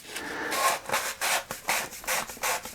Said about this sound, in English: We'll take some more of this emery cloth.